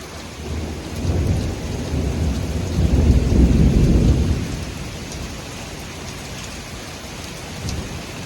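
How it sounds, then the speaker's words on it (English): Thunder from a severe supercell storm rolls and swells to a heavy low rumble over steady rain, then fades back to the drumming downpour. "That sounded like a nearby lightning strike for a minute there."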